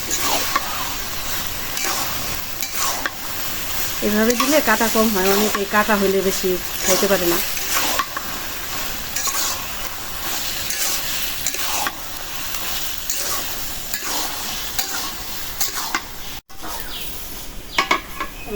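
Fried fish is stirred into a pot of cooking taro greens with a soft, steady frying sizzle and scraping stirs, while someone talks over it almost throughout.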